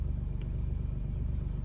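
An Alfa Romeo Giulia Quadrifoglio idles with its exhaust valves closed, giving a deep, steady, pulsing rumble, close and loud, with a faint brief tick partway through and no talking.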